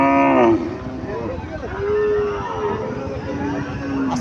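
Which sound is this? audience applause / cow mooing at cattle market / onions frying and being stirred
cow mooing at cattle market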